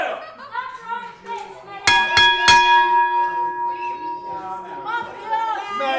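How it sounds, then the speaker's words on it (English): A bell is struck to start a wrestling match, sounding a couple of sharp metallic clangs with a ringing tone that decays over a few seconds, heard under ongoing crowd chatter and talk. "Ring the bell."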